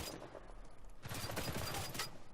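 Gunfire in Uncharted 4 multiplayer, faint scattered shots followed by a louder rapid burst of several rounds in the middle, all fairly quiet and distant.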